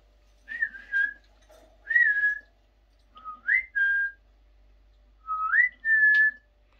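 A cockatiel whistles in clear, rising and falling phrases, several short tuneful bursts with brief pauses between them, close by and alone.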